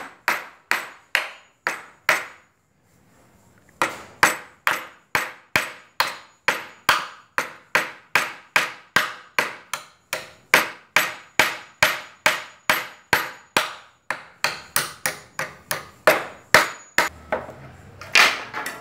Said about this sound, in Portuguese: esse prego dá trabalho para pregar ele, que ele é muito grande, mas compensação também ele fica bem pregado